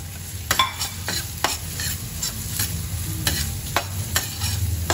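Ginger sautés in a pan for beef papaitan, a close crackling sizzle broken by repeated scraping strokes of a spatula stirring through it, steady and without talk.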